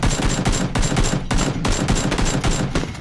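Gunfire in PUBG crackles as rapid automatic bursts, loud and close, with several volleys separated by short gaps.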